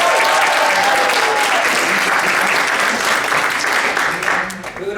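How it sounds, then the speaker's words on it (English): Sustained audience applause fills a ceremony hall, a dense, steady wash of many hands clapping that holds nearly constant for five seconds before easing slightly at the end. "can we give a round of applause to the CIC hospitality team for all their support?"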